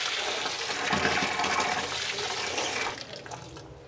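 Tap water runs steadily while lentils are washed in a kitchen, a continuous close rushing stream that fades out near the end.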